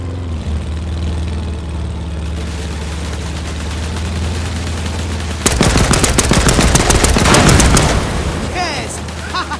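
Gunfire in the PC game Land of War – The Beginning: a low engine drone holds steady, then loud rapid machine-gun bursts break out and rattle on for a few seconds before tapering off.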